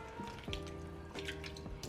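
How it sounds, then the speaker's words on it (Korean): Blanched greens are rinsed in cold water, with soft drips, splashes and gentle squishing of wet leaves close by at low volume. "혹시 모르니까 한 번 더 헹굴게요."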